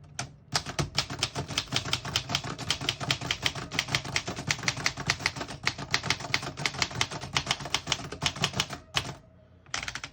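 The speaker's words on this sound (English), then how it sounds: "I'll type a sentence on the next line" A 1942 Remington Remette portable typewriter types a line with quick, steady keystrikes that clatter close and alone for about eight seconds, then stop with a final pair of taps.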